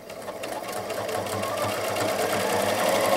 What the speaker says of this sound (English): how straight the machine sews without me even touching the fabric